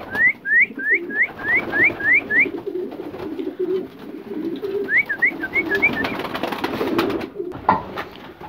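Pigeons coo in soft, repeated runs of rising calls, with a second burst of cooing partway through over a low murmur of nearby birds.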